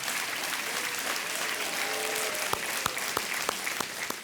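Studio audience applause on a TV quiz show, steady dense clapping across the room, with distinct individual claps becoming more prominent toward the end.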